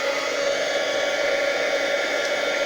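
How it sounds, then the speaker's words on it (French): A heat gun blows hot air over a handmade Christmas card, a constant loud whooshing hum close by that holds steady throughout without pause. "le pistolet chauffant, c'est très chaud"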